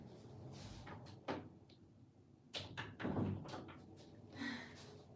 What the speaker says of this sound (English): I'm gonna close the door better